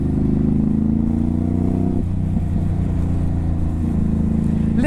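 A Ducati Hypermotard 950 SP motorcycle with aftermarket end cans revs loudly and close, its engine note climbing and falling in steady pulses before a final sharp rise, with no talking.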